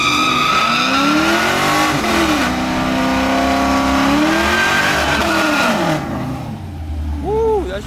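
Chevrolet Camaros at a street race in Mexico, engines revving hard with swooping pitch rises and drops, loud and close, ending with a quick rev pair as the sound thins out.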